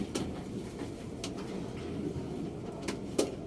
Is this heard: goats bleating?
no